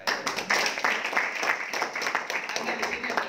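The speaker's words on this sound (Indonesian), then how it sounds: "Tepuk tangan saya." An audience at a reseller training event in Surabaya claps steadily for a few seconds, a dense, fairly close patter of many hands.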